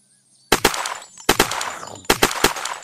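An unsilenced gun in the video game Unturned fires three loud, sharp bursts of rapid shots, each ringing out briefly before the next, after a moment of near silence.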